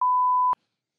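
A single steady electronic censor tone lasting about half a second covers a spoiler during a talk-show conversation about a film, then cuts off abruptly into silence.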